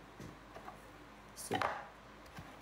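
Potatoes chopped with a knife on a board: a few quiet, sparse knife strikes, one louder cluster of chops near the middle, with soft background murmur.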